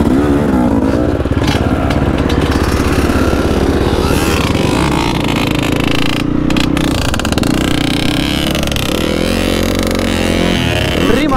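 An enduro motorcycle rides off-road along a forest trail at the start of the season, its engine loud and close, revving and dropping repeatedly through continuous throttle changes with no talk.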